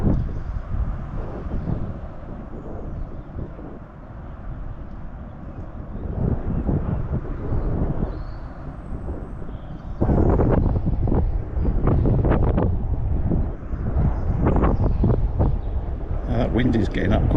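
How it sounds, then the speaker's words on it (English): Strong wind buffets the microphone at a fishing lake, a steady roar that swells louder and gustier midway, with someone talking over it throughout. "there's quite a strong wind my left to right."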